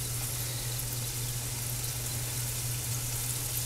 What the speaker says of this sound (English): I'm going to add it to this smoking hot skillet.